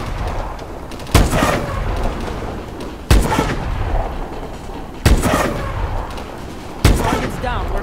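Four heavy gunshots from Call of Duty: Advanced Warfare boom out at roughly two-second intervals, each with a sharp crack and a rumbling tail, against a continuous battlefield din.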